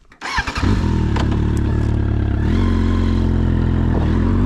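A 1996 Suzuki GSF 1200 Bandit with over 124,000 km turns over and fires up, then settles into a loud, steady, deep idle rumble close by.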